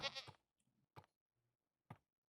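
Video game goat bleats several times in a row, with a long bleat followed by two shorter, separated calls against silence.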